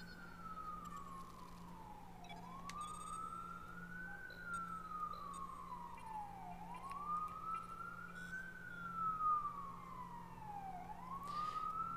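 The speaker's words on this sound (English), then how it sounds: "Yeah, don't mind those sirens." A wailing emergency-vehicle siren rises and falls in slow, repeated sweeps, moderately distant, over a steady low hum.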